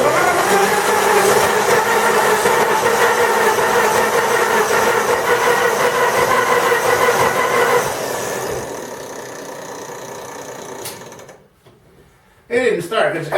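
A 1917 Buick jughead engine that sat for 80 years is turned over by its starter generator, giving a loud, steady mechanical churning for about eight seconds before it fades off, followed by a brief clunk.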